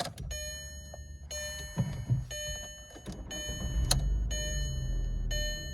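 Skoda Octavia with 167,000 km starting up at close range: a short cranking burst catches into a steady idle that holds even, with repeated electronic chimes sounding over it.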